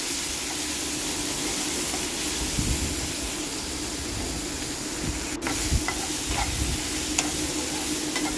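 Chicken masala fries in oil while being stirred, a dense continuous sizzle with scraping stir sounds and occasional clicks, close and fairly loud.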